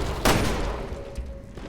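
A single sharp gunshot fired in Resident Evil Revelations 2, loud and close at the start, then a few fainter reports trailing off over a steady game background hum.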